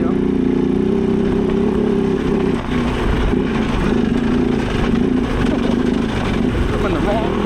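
A KOVE 450 Rally motorcycle engine revs hard on a muddy hill climb, a loud, steady mid-pitched drone sustained throughout with a brief dip partway and faint wind noise around it.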